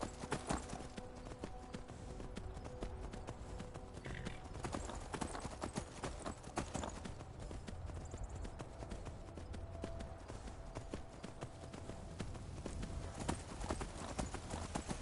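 Horse hooves clip-clopping steadily in the video game Skyrim on PS5, a continuous rhythmic trot at low volume without talk.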